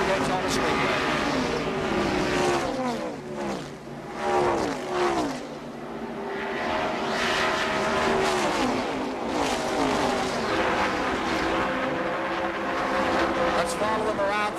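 Race cars roar past at the 1981 Daytona 500 on the Daytona Speedway, engines loud and continuous down the long back straight, with an announcer talking over the racing throughout.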